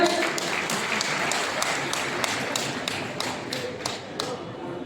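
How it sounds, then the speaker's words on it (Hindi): Applause from a crowd at a Congress party rally in Bihar as state leaders honour guests, a dense steady wash of many hands clapping with sharper individual claps standing out throughout, fairly close and continuous. "आप लोग जोरदार तालियों से स्वागत करें।"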